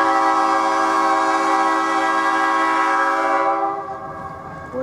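A track structure assessment vehicle passes close by with a long, loud blaring horn and rumbling wheels, then the horn cuts off and the rumble fades.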